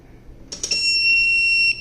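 Eufy smart safe tamper alarm sounding after a few clicks and knocks, then a loud sustained high electronic tone held for about a second before cutting off, close by.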